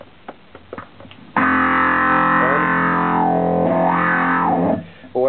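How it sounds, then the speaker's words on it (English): A few short picked notes, then a loud sustained distorted electric guitar chord whose tone sweeps up and down through a Danelectro Dan-o-wah multi-tone wah pedal before cutting off. "Brake light is distortion on and off."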